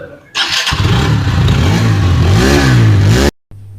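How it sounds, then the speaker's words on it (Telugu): Hero Xtreme 160R 4V motorcycle engine revving hard, its exhaust note climbing and falling in pitch through several throttle blips, loud and close, then cutting off abruptly. "సో బైక్ యొక్క ఎగ్జాస్ట్ నోట్ ఎలా ఉందో మీ కామెంట్ సెక్షన్లో అయితే కామెంట్ చేయండి"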